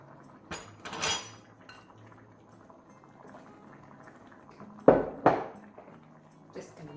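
Beef ragout being stirred in a pot, with a few clanks of a spoon against the pot and soft bubbling between them. Background noise runs underneath throughout.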